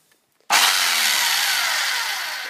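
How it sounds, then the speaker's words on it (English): A chipping hammer chips mortar from an exterior brick wall during damp-proofing repair, cutting in abruptly after a brief quiet and running as a loud, continuous harsh grinding rattle that eases slightly toward the end. "I'm just taking it easy with this chipping hammer."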